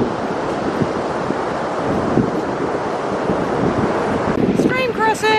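Ocean surf rolls onto a sandy beach as the tide goes out, a loud continuous wash of breaking waves heavily buffeted by wind against the microphone.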